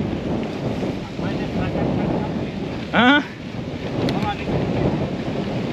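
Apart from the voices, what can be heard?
strong wind blowing on a trail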